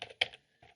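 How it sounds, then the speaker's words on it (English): A web address typed on a computer keyboard in a browser, a few brief close key clicks spaced by short gaps. "in my browser, I'm going to type"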